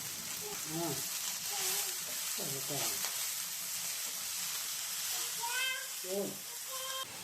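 Traditional leafy greens thoran being stir-fried in a pan, with a low steady sizzle and occasional stirring scrapes. Faint tonal squeaks and voice-like sounds come and go in the background.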